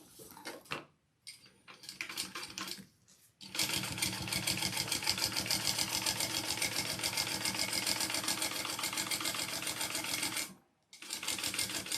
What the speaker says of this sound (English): Okay, we're gonna sew that on.